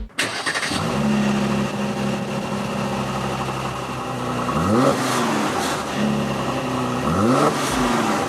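A 2019 Mercedes E450 cabriolet engine rumbles steadily, then revs up sharply twice, the pitch rising and dropping back with a throaty, close growl.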